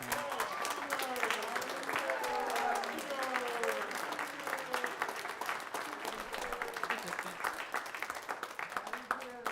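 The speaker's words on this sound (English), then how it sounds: "If we give them a round of applause as well, just one more time." Sustained applause from a school band concert audience at a high school Christmas concert, dense clapping filling the whole stretch with faint voices and chatter mixed in, fairly steady in loudness throughout.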